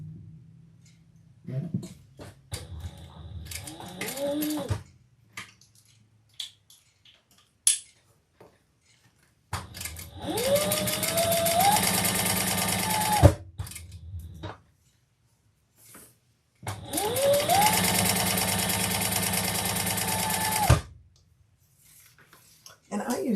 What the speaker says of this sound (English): let's sew it.